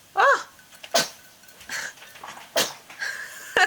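A baby sneezes in short, sharp, separate bursts, close and fairly loud, with small vocal sounds and quiet pauses between them.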